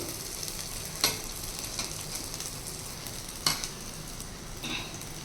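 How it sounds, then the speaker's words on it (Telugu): Garelu, lentil fritters, frying in hot oil, with a steady soft sizzle throughout and a few sharp clinks of a ladle or slotted spoon, no talk. "ఇదిగోండి గారెలు తీస్తున్నాను, పాకోలే వేస్తున్నాను చూడండి."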